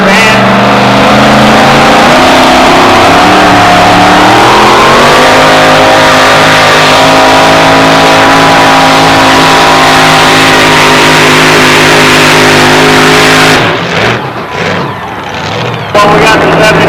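A dual-ignition Keith Black Hemi engine in a two-wheel-drive drag racing truck revs loudly and steadily up to a sustained high pitch, then cuts off abruptly near the end with a few sputtering bursts.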